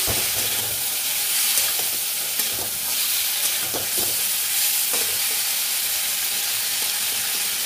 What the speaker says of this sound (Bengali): এবার এটাকে নেড়ে চেড়ে ভাজবো একটু।